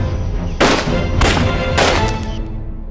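Three loud, sharp gunshots spaced about half a second apart in a wartime action movie firefight, each bursting hard and fading quickly, with no talk.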